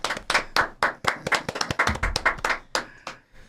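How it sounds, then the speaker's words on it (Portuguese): Audience applause for a guest introduced at a Brazilian talk show on religious freedom, heard as a fairly sparse run of individual hand claps, close and distinct, for a few seconds with no talk over it. "salva de palmas"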